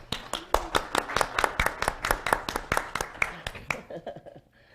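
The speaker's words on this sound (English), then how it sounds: "So I say round of applause for you all" A small group aboard an Oceania Cruises anniversary cruise claps in a steady, distinct rhythm of separate hand claps for about four seconds, tapering off at the end.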